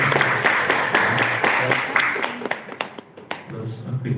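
Audience applause at an English speech competition at a youth jamboree in Kendal, a dense, steady wash of clapping that thins out toward the end, leaving scattered individual claps.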